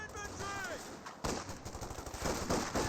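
Gunfire from German Jaeger infantry in the Company of Heroes 2 strategy game: rapid bursts of rifle and machine-gun shots crackling amid battle noise, with a brief voice at the start.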